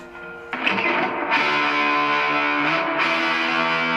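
An electric guitar rings through a Fender Tone Master Twin Reverb amp with the reverb off, one chord sounding, then a louder strum sustaining evenly to the end.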